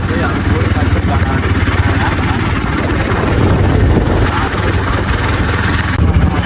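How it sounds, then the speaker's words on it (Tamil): A car climbing a hill road near Ooty, its engine a loud, continuous droning roar mixed with road rumble, close and steady throughout. "இதா அப்படியே ஹில்ஸில் ஏறிக்கிட்டு இருக்கு வண்டி, பாஞ்சு போயிட்டு இருக்கு"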